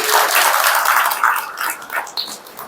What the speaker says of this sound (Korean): 여러분 한번 박수 쳐주시고 그러세요.